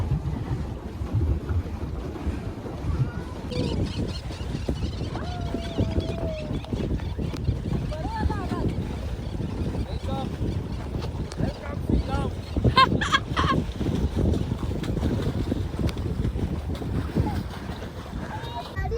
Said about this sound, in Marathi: इथून आम्ही बोट घेतल्या आणि मग आज जाऊन आलो आणि आता परत येतोय